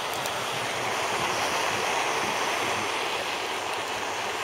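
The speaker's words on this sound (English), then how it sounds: "it's a little windy out here today" Steady, roaring wind blows outdoors without a break, a dense whooshing rush buffeting close by, with no one speaking.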